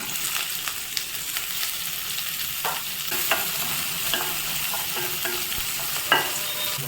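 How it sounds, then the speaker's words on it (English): Onions and cumin powder sizzle in hot oil in a kadai, a steady bright frying hiss with occasional stirring clinks and scrapes throughout. "Once the oil is hot, I'm gonna add a little bit of about half a teaspoon of jeera powder and the onions."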